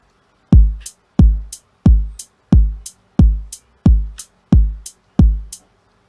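A beat programmed in beatmaking software alternates deep kick thumps with crisp, short hi-hat ticks landing on the upbeats, eight kicks in a steady loud loop.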